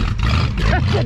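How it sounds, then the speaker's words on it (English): A 1965 Ford Ranchero 4x4 engine roars loud and close, with rough low rumbling and a sharp popping backfire near the middle, brief and dense. "It backfires."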